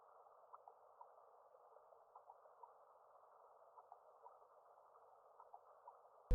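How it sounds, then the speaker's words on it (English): Pitched-down texture ambience in a beat, a faint, steady, narrowband hiss-like drone with soft flickers, barely audible and alone throughout. "Basically, then finally I added this texture ambience here."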